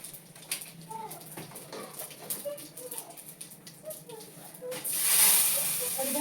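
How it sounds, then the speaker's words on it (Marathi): Mustard seeds are dropped into hot oil in a home kitchen while tempering for a Maharashtrian dish, and a sudden loud sizzling hiss bursts up near the end after a quieter stretch. "आता तेलात मी मोहरी टाकून घेते."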